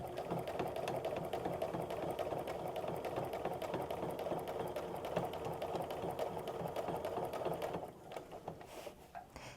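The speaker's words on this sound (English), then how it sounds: "I am just going to quilt until I get to where that sweet spot ends on the long arm" A longarm quilting machine stitches straight lines with ruler work, a steady close mechanical whir with rapid needle pulses that stops near the end.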